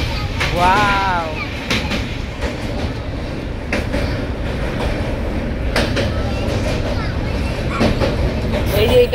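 Kanchan Kanya Express running on the track, with a continuous heavy rumble, repeated clickety-clack taps and a brief high squeal near the start, while people chat close by.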